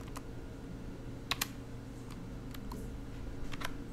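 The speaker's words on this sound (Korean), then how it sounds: "한자키를 누르면" Several quick clicks of keys being pressed on a computer keyboard, including the Hanja key, come as sparse, sharp taps over a steady low room hum with no talking.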